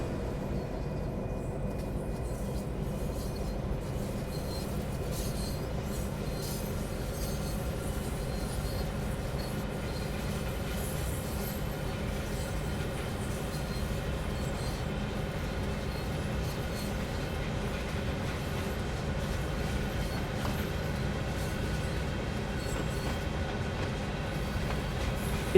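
A train reverses under power in the Train Sim World 4 rail simulator while shunting in Toronto, with a steady, moderately quiet rumble of engine and rolling wagons continuing unbroken, without talk.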